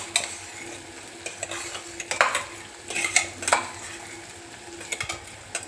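A spoon scrapes and clinks in a pan as ground masala paste is stirred into tomatoes cooking in hot oil, giving irregular metallic scrapes and knocks over a soft sizzle, with no talk.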